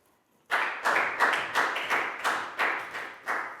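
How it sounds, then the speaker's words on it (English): A class of students clapping together in a classroom, about eight sharp, evenly spaced claps in a steady unison rhythm, close and fairly loud. "a big round of applause for Nadia, guys"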